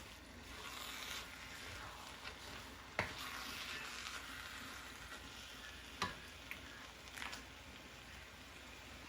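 Vegan chili simmering in a pot, a faint steady sizzle and bubbling hiss with a few soft knocks from stirring, close but low in level.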